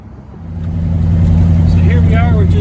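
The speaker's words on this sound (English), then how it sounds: "It's a little noisy in the cab, but that gives it character in my opinion." Inside the cab of a hand-built car cruising through a city, a low steady engine drone and road rumble build up and hold, with a person talking over it.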